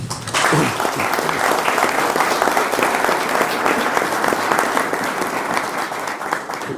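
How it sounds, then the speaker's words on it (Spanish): A conference audience breaks into sustained, dense applause that holds steady for several seconds. "Fuerte el aplauso"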